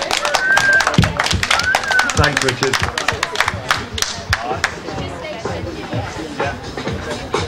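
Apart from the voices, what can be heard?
audience clapping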